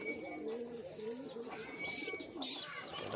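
Pigeons coo softly in a pigeon loft with racing birds and a bird sitting on eggs, low murmuring calls running steadily beneath a brief higher chirp near the end.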